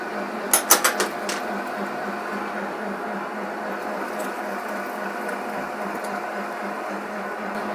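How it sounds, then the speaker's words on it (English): Meat grinder pushing deer burger through a 1/8 inch screen, a steady mechanical hum and churn that holds evenly throughout, with a few sharp clanks near the start. "we'll be grinding our final grind of burger"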